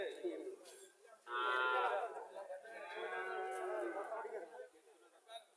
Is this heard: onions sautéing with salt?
no